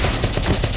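Rapid gunfire from the Valkyria Chronicles video game, a dense run of overlapping shots over about a second with no voices.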